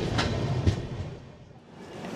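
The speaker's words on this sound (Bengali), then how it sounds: "1143 কিলোমিটার পথ পেরিয়ে ট্রেন ঢুকলো পলাশা" The 18048 Amaravati Express rolls into Palasa station, a broad steady rumble of wheels and carriages with a couple of soft knocks, fading slightly midway before building again.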